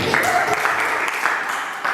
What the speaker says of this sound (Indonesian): Tepuk tangan untuk Pak B.